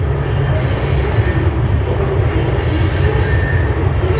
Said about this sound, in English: when the train goes by we get a little bit of rattle daddle